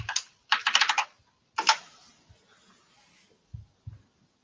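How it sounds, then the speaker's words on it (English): Computer keyboard typing comes in quick bursts of clattering keystrokes, near and fairly loud, followed by a few isolated heavier key taps after a pause. "you want to take that with your angry keyboard typing?"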